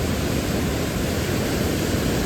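A mountain river runs low beside the Rohtang Pass road near a debris-damaged bridge, giving off a loud, constant roar of rushing water with no break.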